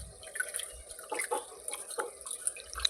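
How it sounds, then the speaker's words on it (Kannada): Sona Masoori rice washed by hand in water, giving soft, close splashes, swishes and drips in an irregular rhythm at low volume. "ಇವಾಗಲೇ ಅದಕ್ಕೆ ಸ್ವಲ್ಪ ನೀರನ್ನ ಹಾಕ್ಕೊಂಡು ಚೆನ್ನಾಗಿ ವಾಶ್ ಮಾಡ್ಕೋತೀನಿ"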